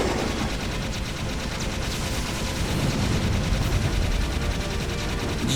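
The Vulcan Fury weapon fires continuously in the video game Jak 3, a loud, dense, unbroken roar of rapid gunfire that fills the whole stretch without pause.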